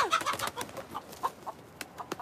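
A hen clucks in a series of short, quick calls that fade to sparse, fainter clucks, heard alone without talk.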